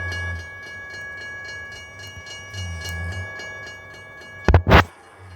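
A train rolls past in a chaotic open-world driving game full of Lambos, with steady rhythmic clatter and hum for several seconds, then a sudden loud burst of crash-like noise near the end.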